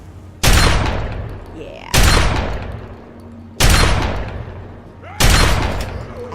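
Four loud, booming gunshots from Fallout 3 are evenly spaced about a second and a half apart, each with a sharp crack and a long decaying rumble, with a brief spoken word between them.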